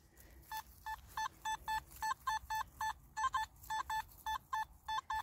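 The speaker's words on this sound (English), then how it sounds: "So I've got this signal, and this is for you, Ed." A Simplex metal detector sounds a target signal: a run of short, evenly spaced electronic beeps, about a dozen pulses in quick succession, clear and steady over faint outdoor background.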